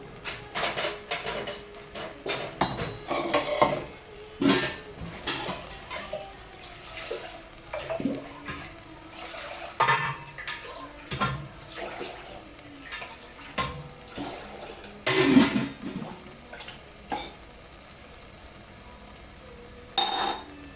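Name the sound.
water being added to basmati rice in a pot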